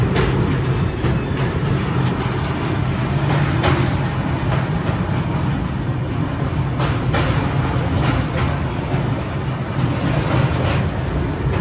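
Inside a long-distance passenger train from Mumbai to Prayagraj, the carriage rumbles loudly and steadily over the rails, with faint rhythmic clicks of the wheels under a continuous roar.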